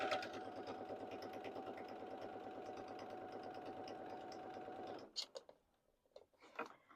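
A sewing machine stitches apron straps with a steady, rapid mechanical chatter that runs evenly for about five seconds, then stops, followed by a few soft clicks and handling sounds.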